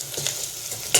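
Chicken with turmeric and goda masala sautés for biryani, sizzling steadily while a spoon stirs and scrapes the pan in quick close strokes.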